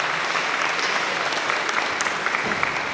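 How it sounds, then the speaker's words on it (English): Audience applause at a county Teacher of the Year event: dense, even clapping from many hands fills the whole stretch at steady loudness, with no voices standing out. "I would like to give her a round of applause."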